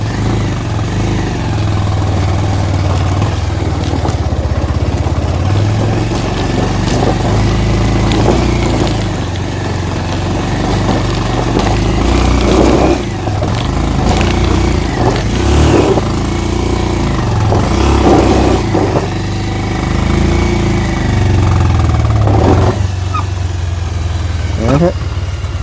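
A motorcycle engine labours steadily up a steep hill road to a hilltop tribal village in Salem district, a continuous loud mid-pitched drone with surges of revving, while someone talks over it.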